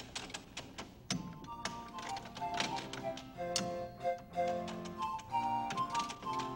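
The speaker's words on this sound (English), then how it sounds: "As it passes from 9 to 0, a click is heard." Babbage difference engine, a brass and steel mechanical calculator, clicking and clattering as its handle is turned, with irregular close taps, ticks and ringing metallic knocks running throughout.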